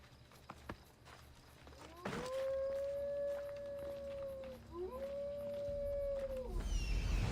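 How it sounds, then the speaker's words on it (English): A wolf in the video game Assassin's Creed Odyssey gives two long, clear, sustained howls, loud and close, with a short break between them, over low game ambience and faint footsteps. "Shut your yapper, wolf."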